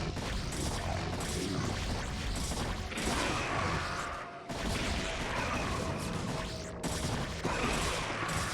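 Dense, continuous battle gunfire and explosions from a StarCraft Brood War match as units fire on Corsairs, a loud unbroken wash of shots and blasts with brief dips, no talk.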